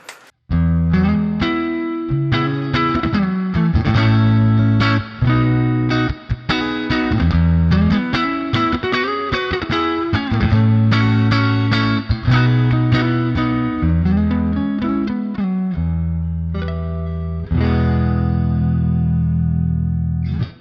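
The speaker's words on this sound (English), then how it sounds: "So we've got the American Vintage B, which is like a brown face Fender there." Electric guitar runs through the AmpliTube 5 American Vintage B amp model, a brown-face Fender style with a scooped tone, playing a lively stretch of chords and single notes with slight grit and short pauses.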